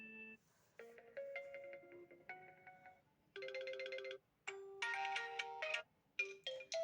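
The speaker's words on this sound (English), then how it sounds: "Firstly, play ringtone." A realme narzo 50A Prime phone plays a bright melodic ringtone, a series of clear electronic tones in short phrases with small gaps, close and alone.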